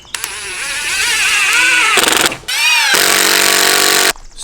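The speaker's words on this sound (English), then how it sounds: "So with the supplied screws, we'll just mount this right here in the middle of this post." Power drill whines loudly in close bursts, driving the supplied screws into a wooden post to mount a metal garden hose holder, with rising and falling motor pitch and short pauses between runs.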